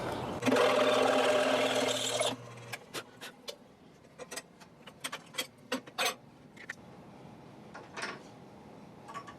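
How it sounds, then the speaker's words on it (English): A power drill whirs loudly for about two seconds drilling a bolt hole for a car roof rack cross rail, then stops, followed by a series of sharp taps and clicks from handling parts and tools. "So what I'm going to have to do is drill this"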